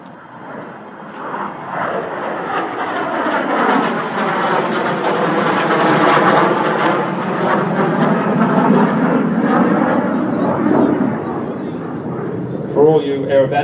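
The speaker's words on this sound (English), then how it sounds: "So you watch the roll performance of the airplane." Propeller airplane engine at an air show at Temora, droning loudly and steadily through an aerobatic hesitation roll, pitch slowly shifting as it passes, with a voice commenting over it.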